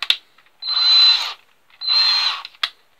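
A power drill bores holes for a leather cover on a motorcycle's central trunk, two sustained whining bursts of about a second each, close and loud, separated by quiet with small handling clicks.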